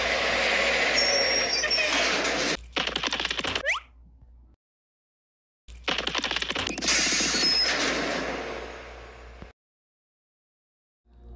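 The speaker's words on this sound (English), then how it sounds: "I think I hear a truck now." A cartoon truck arrives in two loud bursts of engine rumble and hissing air brakes, with near silence between them and after the second burst.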